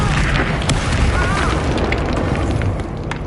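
The Bombarda spell erupts in Hogwarts Legacy as a loud, dense, rumbling blast that fills the whole moment with sustained crackling and booming debris, with a voice briefly present.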